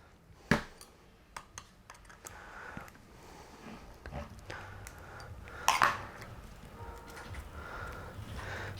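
Small screws are backed out of an RC car motor with a 2.5mm hex driver, giving faint, close, scattered clicks and scrapes of tool on metal and plastic, with a couple of sharper taps.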